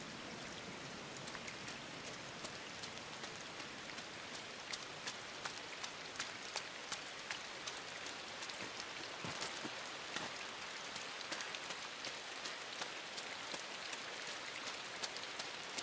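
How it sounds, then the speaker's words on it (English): Rain falls on water in the video game INSIDE, a soft, continuous hiss of countless drops with faint scattered splashes, steady and fairly quiet throughout, with no talking. "I always did like the sound of rain on water"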